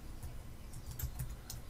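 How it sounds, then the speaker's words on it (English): Soft, faint keystrokes on a computer keyboard while entering a value into a spreadsheet, a sparse, irregular run of light clicks close by in a quiet room. "typing in the value as desired"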